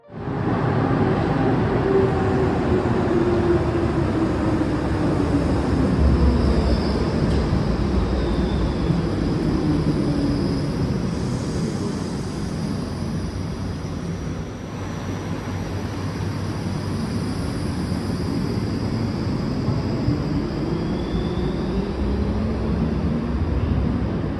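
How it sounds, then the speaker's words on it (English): A tram rumbles through the underground tunnel of the Linz tram subway, a loud sustained roar with a rising and falling metallic whine, echoing off the walls for over twenty seconds with no talk. "the trams are really loud down here, so you very much know when they're coming"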